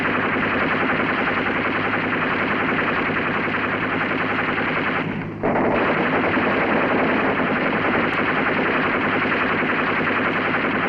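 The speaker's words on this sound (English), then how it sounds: "we'll make a firing run" A US Navy river patrol boat in the Mekong Delta in 1967 lays down continuous, loud machine-gun fire, a dense unbroken rattle over engine rumble with only a momentary drop near the middle.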